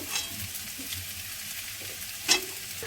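Meat and potatoes frying in a pan, a steady close sizzle with soft stirring scrapes and one sharp clack of the spoon near the end.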